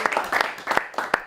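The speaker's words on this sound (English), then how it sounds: "another round of applause for Karli Marulli" A live show audience claps in a brief burst of applause, with the distinct, uneven hand claps of a modest crowd sounding close and moderately loud.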